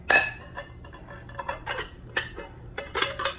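Clinks and taps of a ceramic bowl and utensil against a plate as packed rice is turned out, a handful of short, light knocks spread unevenly over a few seconds in a quiet kitchen.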